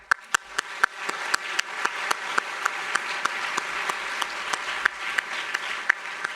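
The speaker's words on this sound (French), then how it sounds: "Merci également de les applaudir." An audience at a ministerial opening session applauds, with a steady bed of clapping broken by sharp, distinct hand claps close by.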